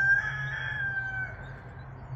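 A rooster crows faintly in the distance at historic Fort Tejon, California. Its single thin, drawn-out call fades after about a second over a steady low background hum.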